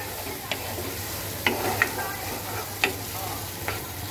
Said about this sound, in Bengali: এবার সুন্দর করে কষাতে হবে।